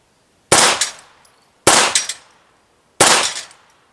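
A Ruger SR-22 pistol fires .22 rounds at small steel targets, three sharp, loud cracks spaced about a second apart, each with a short ringing decay.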